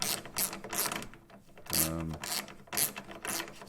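Ratchet wrench snugging up headlight assembly bolts on a 2009–2014 Ford F150, with quick rapid clicking bursts close up, broken by a short low mechanical drone, no talking.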